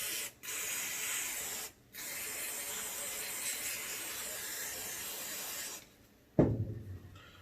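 Aerosol cleaner hisses onto the upper of an Atlasgunworks Titan 9mm pistol in long, steady bursts broken by two short pauses, then stops with a sharp knock and quieter handling.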